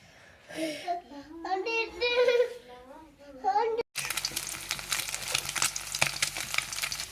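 Cabbage sautéing in a pan for restaurant-style egg fried rice gives a steady, close sizzle with stirring, after a stretch of talking at the start.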